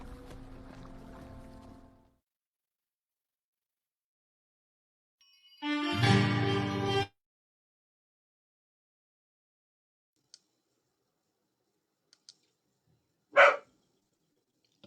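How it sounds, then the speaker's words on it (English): A pet dog barks indoors in a few separated bursts, one longer loud bark in the middle and a short sharp one later, with quiet gaps between. "Sorry about my dog."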